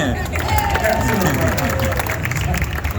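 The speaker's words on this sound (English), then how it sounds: "Vote now if you think it's Bo-Katan. By your applause" At a fan convention panel, the audience applauds as a vote, loud clapping mixed with cheering and crowd babble, voices heard throughout.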